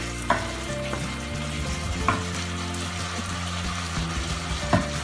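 Chicken and potatoes fry in ghee with onion in a pan, giving a steady low sizzle broken by a few soft scrapes and knocks as the food is stirred, close and fairly quiet.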